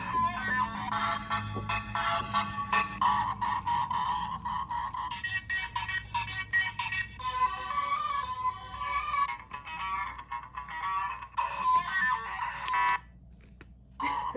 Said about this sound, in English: Sounds correspond to lights on each side.